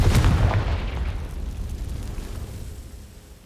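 A Confringo spell going off in Hogwarts Legacy makes a loud, close explosive burst that fades away over a few seconds with no voice.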